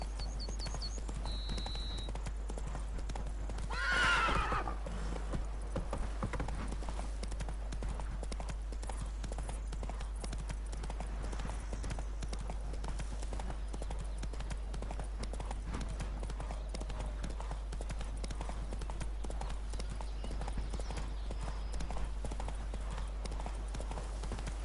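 A horse ridden in The Witcher 3 gallops with a steady, close clip-clop of hooves, and a short, bright whinny rises near the start.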